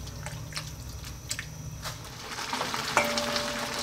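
Spring onion goes into a pot of pork sotanghon soup as it simmers, with a steady soft bubbling hiss and a few light clinks and stirring taps, then a brief sharper clatter near the end.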